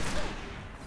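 Heavy gunfire from the Destiny video game fills a brief burst, a dense, loud, broadband blast that washes over everything and fades slightly at the end.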